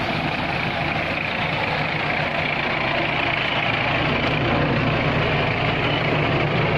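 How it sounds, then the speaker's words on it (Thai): A tractor fitted with a disc plough works a rice field, its engine a steady, loud, droning rumble that holds constant throughout with no speech over it. "รถไถไปเองได้เลยนะครับ"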